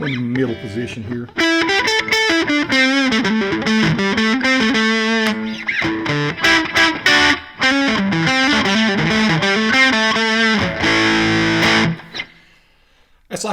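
Electric guitar through a North Carolina-built effects pedal set to its middle position, playing loud, distorted riffs in choppy bursts with brief gaps, ending in a sustained chord that cuts off.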